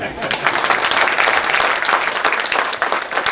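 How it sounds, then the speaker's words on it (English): A crowd claps briskly and continuously, a dense patter of many hands at fairly close range. "Let's clap for him."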